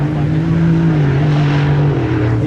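An Ultra4 bomber-chassis race car launches off the start line at a Shamokin, Pennsylvania off-road race, its engine a loud, steady roar that holds throughout with little variation.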